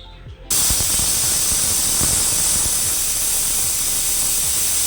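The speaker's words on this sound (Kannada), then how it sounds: "ನೆಕ್ಸ್ಟ್ ಕುಕ್ಕರ್ನ ಲಿಡ್ ಕ್ಲೋಸ್ ಮಾಡಿ ಒಂದು 3 to 4 ವಿಷಲ್ ಕೂಗಿಸ್ಕೊಳ್ಳಿ" A pressure cooker on the stove, holding dal for Mangalore cucumber sambar, vents a loud, steady rush of hissing steam that starts abruptly and continues unbroken close by.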